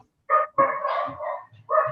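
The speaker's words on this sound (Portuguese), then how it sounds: "Tem um cachorro aí." A dog barking several times nearby in short, loud bursts against a quiet background.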